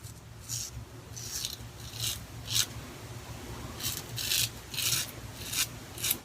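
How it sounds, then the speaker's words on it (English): A OneBlade razor cuts through facial hair in even strokes, giving close, crisp rasping bursts about once a second over a quiet background. "Hear that blade just cutting through that hair?"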